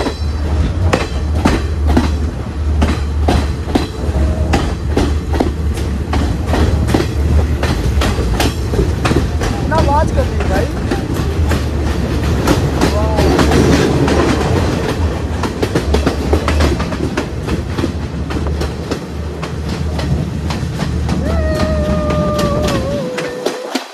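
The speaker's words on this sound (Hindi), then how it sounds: "ट्रेन एक तो हिल बहुत रही है ना" A train on the Ella route in Sri Lanka rolls along the rails with loud, continuous clickety-clack and rumbling, occasional wheel squeals near the end, heard close from inside the carriage.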